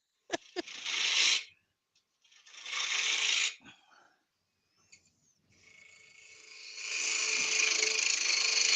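Woodturning tool cutting into a knot in wood spinning on a lathe: loud rasping scrapes in bursts, a short gap, then a longer steady grinding cut, with no talking.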